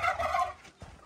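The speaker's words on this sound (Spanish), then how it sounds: "Los guajolotes." A turkey lets out a short, throaty gobble nearby, a quick warbling burst that fades within a second.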